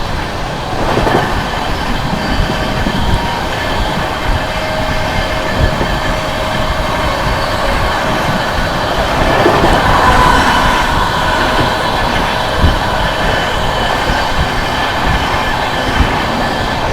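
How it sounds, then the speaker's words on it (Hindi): The Sealdah Rajdhani Express rolls along during an overtake, a loud continuous rumble of wheels on rails with rhythmic clatter and faint squealing throughout, heard close from on board. "This is the queen of राजधानी शालदा राजधानी एक्सप्रेस। गजब का ओवरटेक।"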